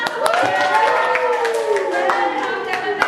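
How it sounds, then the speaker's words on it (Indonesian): Classroom audience clapping for a first-place student, a scattered run of handclaps heard under a speaking voice and music-like tones throughout. "Ya, tepuk tangan untuk Sata."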